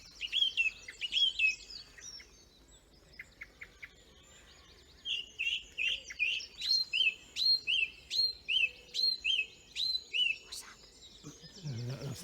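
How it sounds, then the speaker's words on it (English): A song thrush sings in a spring dawn chorus, faint and distant: a short phrase, then a string of about ten evenly repeated whistled notes, with other birds chirping softly in the background. "That's the song thrush."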